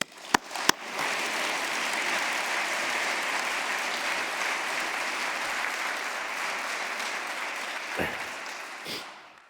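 An audience breaks into sustained loud applause welcoming Reed Hastings, Netflix founder and CEO, at a Stanford business school award event, a dense steady clapping that fades near the end after a couple of sharp taps at the start.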